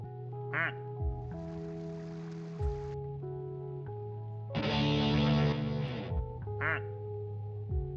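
A toy duck quacks when touched, giving short buzzy quacks in a few separate bursts, with longer noisy hissing passages between them, heard close over a steady electronic tone.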